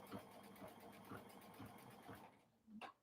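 A sewing machine runs steadily, stitching fabric in quick repetitive pulses, close up, and stops near the end with a short clunk.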